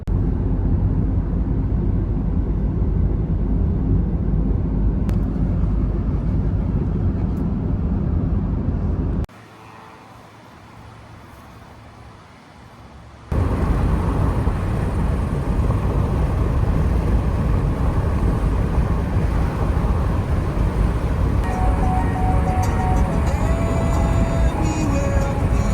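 A car cruises along a good road toward Moscow, Russia, with steady loud road and engine rumble throughout that drops to a quieter, muffled stretch partway through before the full roar returns.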